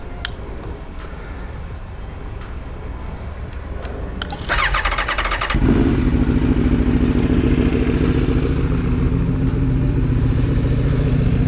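Mechanical clicking and cranking, then an engine catches and roars to life, settling into a loud, steady idle.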